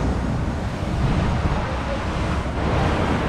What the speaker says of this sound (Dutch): Ik zag dat de waterval ook weer deed, want in oktober deed hij het helaas niet.